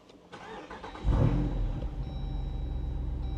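A Jeep Wrangler Rubicon 392 Final Edition starts up: there is a short crank, then the engine fires loudly about a second in and settles into a steady, deep idle rumble heard close up with no talk.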